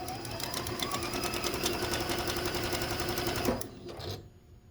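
A sewing machine stitches quilt block corners in a fast, even, continuous run of needle strokes, close and steady, then stops abruptly near the end.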